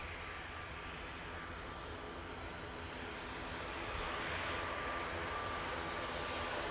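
A propeller aircraft approaches Manchester Airport, a continuous broadband engine drone with a faint steady tone that swells slightly louder toward the end, with no voices.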